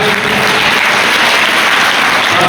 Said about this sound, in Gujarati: આપણે જોરદાર તાળીઓથી આભાર વ્યક્ત